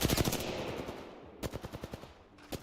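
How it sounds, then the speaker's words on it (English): Rapid automatic gunfire from Apex Legends, a loud burst of closely spaced shots, a brief pause, then a second steady burst of evenly paced rounds, with no talking over it. "Opening fire."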